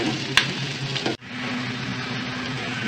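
Okra sizzles steadily in a hot pan, with a sharp stirring clatter near the start and a brief break before the frying hiss resumes, even and close.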